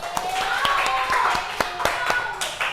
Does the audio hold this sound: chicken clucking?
no